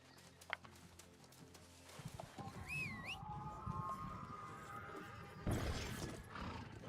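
In the fantasy game New World, a horse clip-clops steadily, with a rising whinny-like call and a shimmering whistle-like tone over layered game ambience, no speech.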